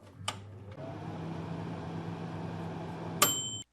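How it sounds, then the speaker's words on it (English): A microwave oven sound effect: a click, then a steady electric hum running for a few seconds, ending in a sharp bright beep, with no speech. "I'll throw everything in the microwave"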